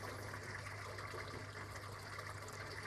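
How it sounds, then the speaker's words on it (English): Steady rushing and trickling of pumped water pouring into an IBC tank, a continuous broadband wash with an even low hum beneath, unchanging throughout and with no talk. "The water is still coming into the tank at the same rate."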